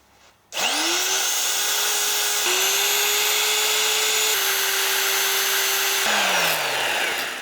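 A power grinder spins up loudly and grinds down a thick, strong piece of wire for an alternator motor build. A steady high whine holds close and continuous for several seconds, with brief changes in pitch as the load shifts.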